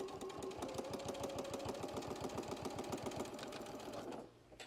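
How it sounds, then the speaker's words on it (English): A sewing machine stitching the brim of a fabric bucket hat, a steady fast mechanical chatter running close and even for several seconds before stopping abruptly. "and then just keep sewing."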